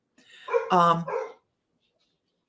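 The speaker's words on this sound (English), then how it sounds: "Can you guys hear over the dogs?" Dogs give a short burst of close, loud barks and yips lasting about a second, then fall silent, with a brief sharp sound right at the end.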